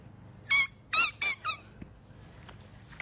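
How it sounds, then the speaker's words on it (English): A squeaky dog ball, played with by a Doberman, lets out four sharp, high squeaks close up in quick succession, the last one softer, followed by a few faint taps and soft handling sounds and no speech. "I just realized it squeaks."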